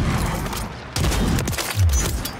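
Gunfire in the Warzone battle royale video game: a loud, dense fusillade of rapid shots with short booming bursts, continuous over a couple of seconds.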